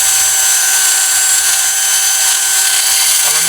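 A power drill stands in for a kitchen mixer while a ginger drink is prepared for a night market stall, giving a steady, loud, high-pitched whine that runs without a break, alone.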